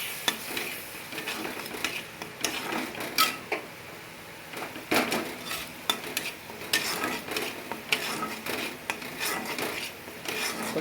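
Mustard paste masala for a bata fish curry being sautéed in a pan, a low steady sizzle under repeated scraping and stirring strokes of a spoon against the pan.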